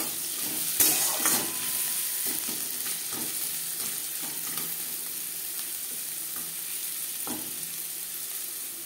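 Onions and carrots fry in a pan for jhal suji, giving off a continuous, even sizzling hiss with a few soft stirring knocks, loudest near the start.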